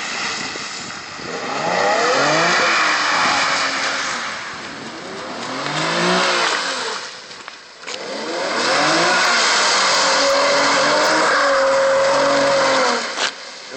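An Infiniti G37S pulls away on a wet road in the rain, its engine revving up and down in two long rising surges with tyre hiss on the wet surface, fairly close and loud, with no talk.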